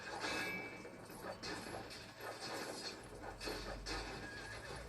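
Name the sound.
horse neighing in LEGO Pirates of the Caribbean video game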